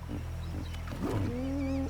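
Lions from a pride roaring and growling near a river, a deep rumbling call with a rising drawn-out tone, close and moderately loud over low background rumble.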